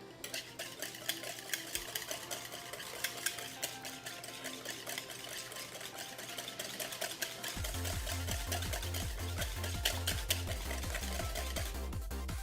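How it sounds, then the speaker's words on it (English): Eggs for omurice are whisked briskly in a bowl, a fast rhythmic clicking and sloshing that carries on steadily, with a low humming tone joining in partway through. "You're whisking until it is uniform in color."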